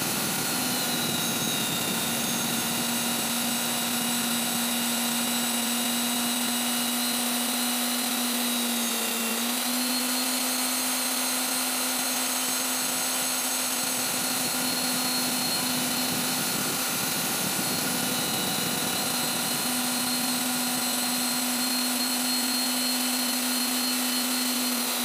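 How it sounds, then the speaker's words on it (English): A grinding wheel cuts a number 4 Jacobs taper for a drill chuck arbor, giving a loud, steady, continuous whine with a constant tone and a brief dip partway through, with no speech. "we've redressed our wheel and we'll start cutting the Jacob's taper, number 4 Jacob's taper,"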